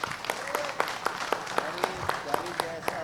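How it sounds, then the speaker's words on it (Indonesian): Applause at a village handover ceremony for a Rotary hand tractor donated under a BRI CSR program, heard as a thin scatter of irregular claps, fairly close and modest in volume, with voices murmuring underneath. "Sekali lagi tepuk tangan untuk beliau."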